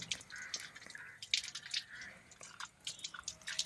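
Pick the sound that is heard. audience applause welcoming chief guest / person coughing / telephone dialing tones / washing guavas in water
washing guavas in water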